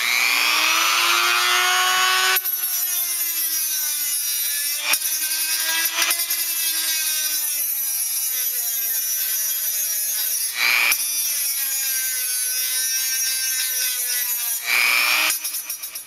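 Plastic spacers being sanded down to standoff height for an X-clamp fix, a steady loud abrasive rasping that runs continuously with a few brief pauses between strokes, heard alone.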